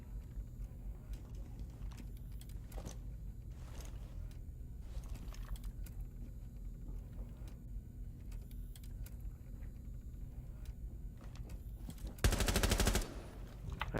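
Gunfire in Rainbow Six Siege on the Yacht map, with scattered, muffled shots and rattling bursts under constant game ambience, ending in a louder, sharper burst of fire near the end.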